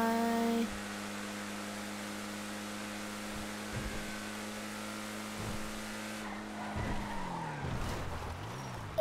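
A car in GTA V brakes hard and skids, with a steady engine hum giving way to tire squeal and a falling engine note near the end, loud and close, with no talk.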